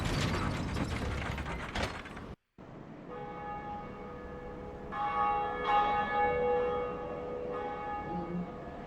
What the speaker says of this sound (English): that kind of looks like a bell. Let's ring it.